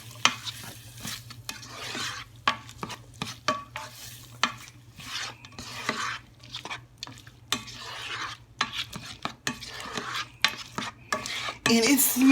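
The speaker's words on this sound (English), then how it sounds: "this is more kind of like marinating everything together, sauteing it, I guess you could say." Black beans, corn and carrots sautéing in a pan, with busy, irregular stirring, utensil scrapes and clatters over a steady sizzle, close and fairly loud throughout.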